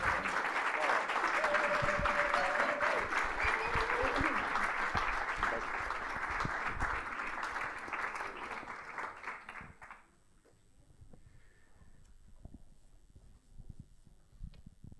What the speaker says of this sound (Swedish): ge en varm applåd till Filip och Filip